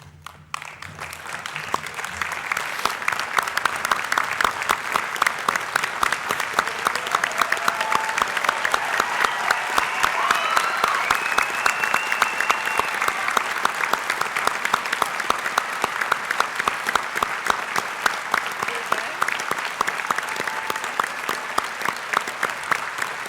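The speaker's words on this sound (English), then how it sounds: "join me in applauding the wonderful achievement of our graduates" A graduation ceremony audience applauds graduates with sustained, dense clapping that rises quickly and holds steady and loud throughout.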